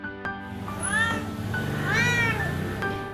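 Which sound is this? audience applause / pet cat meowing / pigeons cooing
pet cat meowing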